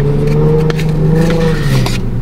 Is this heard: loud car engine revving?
yes